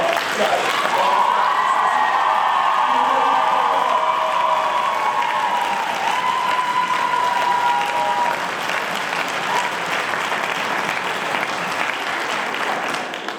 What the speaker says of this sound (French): J'aimerais quand même qu'on applaudisse très fort la prestation de vous trois